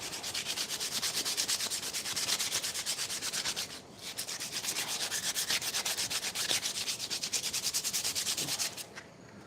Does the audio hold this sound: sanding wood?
yes